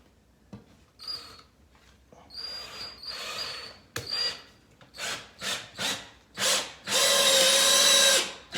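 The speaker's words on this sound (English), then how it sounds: "So I'm going to continue screwing these down." Power drill driving screws into a plywood subfloor during a laminate floor installation: short bursts of whirring, each rising and cutting off, then a longer sustained run at the end, close and loud.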